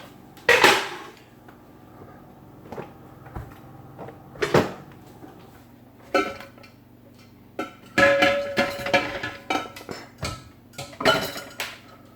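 Glass jars of wort knock and clink against a metal pot as they are lifted out of near-boiling water one after another, with a series of sharp close clatters separated by short pauses.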